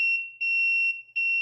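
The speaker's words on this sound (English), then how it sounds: "it's beeping because if you're somewhere else in the world, someone standing here wouldn't know the gate's about to start moving" A USAutomatic Ranger 500 gate opener gives a warning beep: a loud, piercing electronic tone sounding in three close pulses with brief dips between, alone and without talk.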